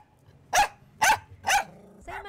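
A dog barks three times at a steady rhythm, loud and close, followed by a shorter yelp-like bark, with no talking.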